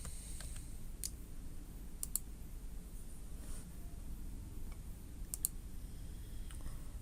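Quiet keyboard typing at a computer, scattered clusters of light key clicks with short pauses between bursts, close and soft over a low background hum, with no talking.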